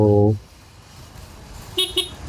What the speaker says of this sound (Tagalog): yan ang busina natin.